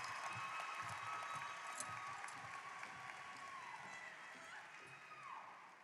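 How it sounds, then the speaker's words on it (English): Audience at a high school graduation ceremony applauds with dense, sustained clapping that fades slightly toward the end, with some faint voices underneath. "Please clap for them as they come."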